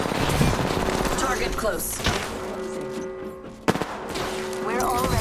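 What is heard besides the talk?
gunfire in video game Apex Legends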